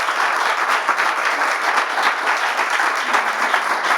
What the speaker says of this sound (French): On veut vous entendre à nouveau, allez applaudissez, vous êtes formidables.